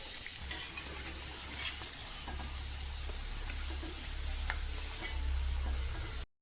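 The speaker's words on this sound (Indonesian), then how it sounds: "Oke, ini minyaknya udah mau panas ya, udah panas." Food frying in hot cooking oil in a home kitchen, a steady close sizzle with brief louder crackling surges and faint clinks of utensils, no talking.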